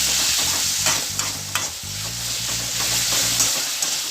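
Black bean paste sizzles and fries in a pan with beef and bitter melon, giving a constant crackling hiss and scattered clicks of stirring. A low hum sits beneath it and no one speaks.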